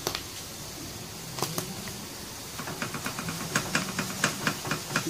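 Beef cubes sizzle in a pan with mushrooms, giving a steady frying hiss broken by quick crackling pops that grow more frequent toward the end, close and moderately loud, with no voices.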